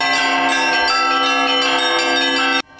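Church bells on a belfry standing at ground level ring loudly and repeatedly in overlapping rich tones, then cut off abruptly near the end.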